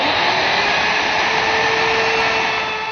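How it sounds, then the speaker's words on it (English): A router fitted with a 1/2 inch radius bit whines steadily and loudly as it rounds the top edge of a wooden butterfly table top, a continuous high-pitched motor roar with no talking. "round the top corner with a 1/2 inch radius bit"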